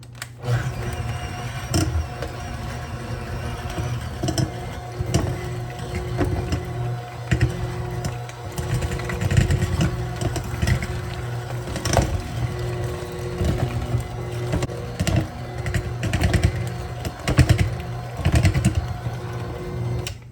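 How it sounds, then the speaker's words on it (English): An electric mixer beats soft cream cheese for a cheese ball, a steady close motor whir with rattling bowl contact that runs unbroken for about twenty seconds. "I'm going to use a mixer to mix mine"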